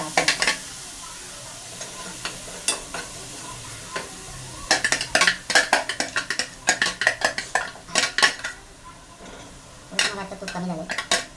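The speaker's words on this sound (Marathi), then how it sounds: "गरम झालेलं आहे तर याच्यामध्ये मी फटाफट टाकून घेतो गाजरचा किस." Grated carrot stirred in hot ghee in a pan for carrot halwa, sizzling steadily while a utensil scrapes and clinks against the metal in quick irregular bursts, close and fairly loud with no talking.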